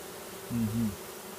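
Honeybees fanning to ventilate their hive make a low, steady buzz that swells briefly and fades again, faint against a hissy background.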